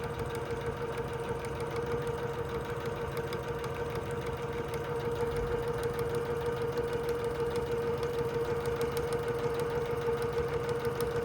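A sewing machine back stitching a seam on a messenger bag hums and chatters steadily and continuously. It sounds fairly quiet and close, with no talking over it.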